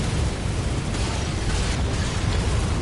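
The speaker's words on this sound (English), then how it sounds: "Don't worry about the explosions." Explosions in Old Yharnam in the video game Bloodborne, a loud, continuous booming rumble with burst-like surges that sustains throughout, with no talk.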